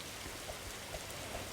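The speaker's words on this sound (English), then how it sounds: "Why do I have to run in this rain?" A steady, dense hiss of rain falls in the Roblox game Berry Avenue, heard alone and evenly throughout.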